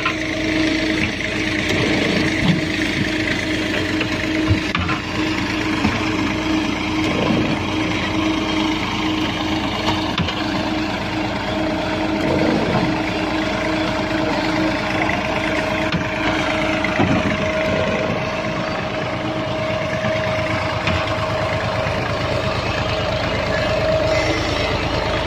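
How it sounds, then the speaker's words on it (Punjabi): A Massey 240 tractor engine running in second high gear powers a brick and roof-tile machine at a brick kiln factory, a steady loud droning hum with mechanical clatter underneath for the whole stretch. "ਦੂਸਰਾ ਗੇਅਰ ਲਗਾਇਆ ਹੋਇਆ ਜੀ ਹਾਈ ਦਾ, ਮੈਸੀ ਲੱਗਿਆ ਹੋਇਆ ਜੀ, ਮੈਸੀ 240।"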